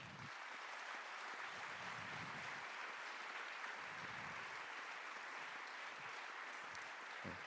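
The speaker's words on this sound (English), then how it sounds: "je vous propose de l'applaudir." An audience at a talk applauds with steady, dense clapping throughout, heard from some distance in a large room and fairly faint overall.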